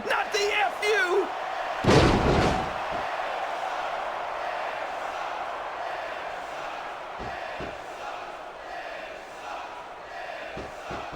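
WWE SVR 2006 video game wrestling FU slam, a sharp heavy impact thud about two seconds in, ringing out over a constant roaring arena crowd, with a few fainter knocks later.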